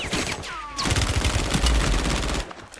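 Gunfire in Warzone 3 on Urzikstan, a loud burst of rapid automatic shots lasting about two seconds, close and dense, with no talk over it.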